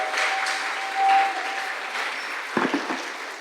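A church congregation applauds in a sustained wash of many hands clapping, with a brief tonal hum at the start and a few closer, sharper knocks near the end.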